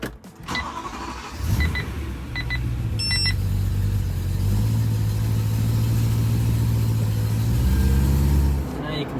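A BMW E92 idling while its front wheels are turned, a steady close engine hum with a rising power-steering groan and a few sharp clicks early on, and someone speaking briefly.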